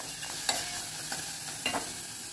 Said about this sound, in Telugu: వీటన్నింటినీ ఒక 2 నిమిషాల సేపు ఫ్రై చేసుకోవాలి.